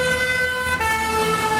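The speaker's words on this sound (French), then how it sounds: "Écoutez, un camion de pompiers s'approche." A fire truck siren sounds close and loud as the truck approaches, its steady wailing tone holding high and strong before the pitch shifts partway through as the Doppler effect takes hold.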